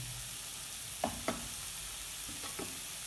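Carrots and spices cooking in butter are stirred in a pan, a low steady sizzle with a few distinct scraping knocks of the spoon against the pan.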